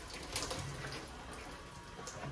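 Faint, steady trickle of water poured by hand onto indoor seedlings, including tomato plants, a soft continuous splashing with no talk.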